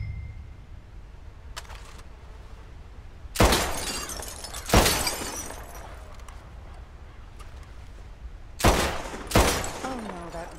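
Gunshots fired at targets in the video game Red Dead Redemption 2: five sharp, loud single shots spaced a second or more apart, each with a short echoing tail over quiet outdoor ambience.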